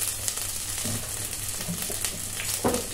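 Oil spatters and sizzles steadily in a pan while frying for Bangladeshi bhuna khichuri, a continuous close crackling hiss with a few louder pops and a brief scrape near the end.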